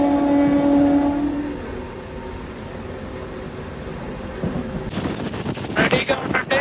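A Kazipet to Secunderabad MEMU passenger train starts off, a low rumbling drone that later gives way to rapid rattling clatter of wheels and carriages, loud and near.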